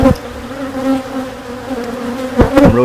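Honey bees buzz densely around an open beehive, a close, loud, continuous drone with individual bees swelling past the microphone, and no voices.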